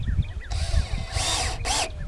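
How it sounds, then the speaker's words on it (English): A power drill drives screws into the wood of a raised garden bed, whirring in two short bursts that rise in pitch, with faint scraping and handling noise between them. "I'm just going to screw temporarily"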